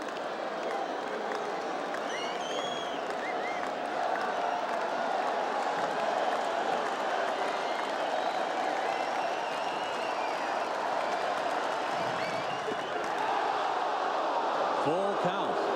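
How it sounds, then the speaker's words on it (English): A baseball stadium crowd roars steadily through a 1999 Mariners at Red Sox game at Fenway with Pedro Martinez pitching, a dense continuous swell of cheering and applause close and loud throughout, rising slightly near the end. "Crowd is roaring on every pitch."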